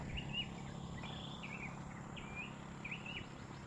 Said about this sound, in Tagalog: Isarap pakinggan ng mga huni ng ibon.